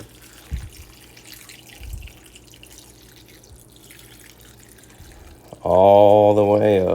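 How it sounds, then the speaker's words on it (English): Tap water runs into a soup pot in a home kitchen, a steady, loud rush that starts near the end after a quieter stretch with a few faint knocks. "Now I'm going to fill it up the rest of the way with water."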